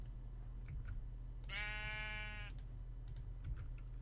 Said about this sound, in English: Hello, noisy sheep